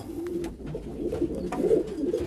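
Pigeons cooing close by in a loft of homing and squab pigeons, soft repeated low coos with faint rustling and no talk.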